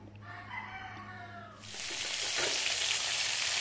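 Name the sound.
cassava frying in a pan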